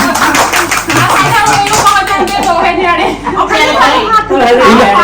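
A small family group claps during a festival gathering at home, with rapid hand claps close by mixed with overlapping talk and chatter throughout.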